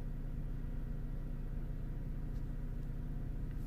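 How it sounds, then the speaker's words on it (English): A Vauxhall Astra H 1.8 petrol engine, running lean, idles steadily after a cold start, a low, even rumble heard from close by with no speech. "Okay, the cold start is finished. My revs already dropped."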